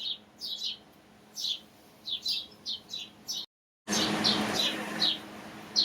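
Small birds chirp from a shade tree in strong sun, giving short bright tweets in irregular bursts that continue on their own with no talking, broken by a brief silent gap.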